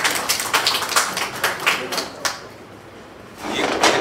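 Audience clapping at a school honour ceremony at Narayana Public School, a run of sharp scattered claps that thins out, then swells again near the end.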